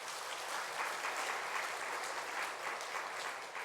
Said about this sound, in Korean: 힘내라는 의미로 박수 한번 부탁드리겠습니다.